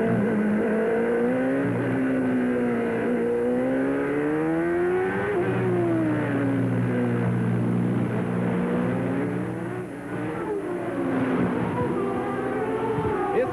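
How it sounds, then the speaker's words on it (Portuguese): Onboard sound of a Ford-powered IndyCar race car lapping the 1994 Long Beach Grand Prix street circuit, a loud close engine note climbing through gears with repeated rises and drops in pitch as it accelerates, shifts and slows. "Vamos sentir a saúde do motor Ford do Flash Gordon."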